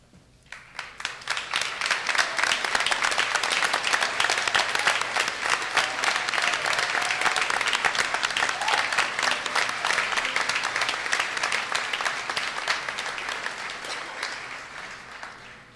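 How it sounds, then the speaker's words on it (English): A large convocation audience at the Marconi Campus gives a sustained round of applause to standing award recipients, dense clapping that swells in quickly, holds for about fifteen seconds and fades at the end. "Would the recipients of all these awards please stand for a round of applause?"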